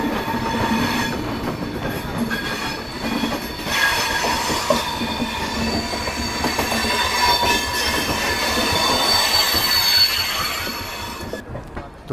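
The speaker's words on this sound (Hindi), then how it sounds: "और ये तो गोमती एक्सप्रेस लग रही है।" The Gomti Express passing on an Indian railway line near Ghaziabad Junction, a loud, sustained rumble of wheels on rails with rhythmic clickety-clack and high metallic squeal throughout, fading slightly at the end.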